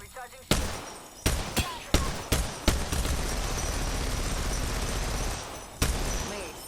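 Video game gunfire: a series of sharp, loud shots at irregular intervals, several close together early on and one more after a pause, over a constant dense rumble of combat noise.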